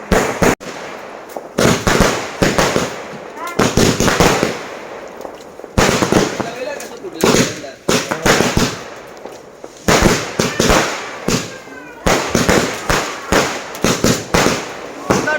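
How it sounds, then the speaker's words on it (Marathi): Firecrackers bursting at a village Maghi Ganpati palanquin procession, sharp loud bangs in rapid irregular clusters and long strings, with crackling and a few voices between bursts. "चला फटाके फोडूया."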